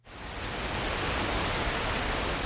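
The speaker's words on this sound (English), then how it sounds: "It was raining very hard." Heavy rain pours steadily onto leaves in a dense, even hiss that swells in within the first moment and then holds constant, loud and close, with no voices or other sounds.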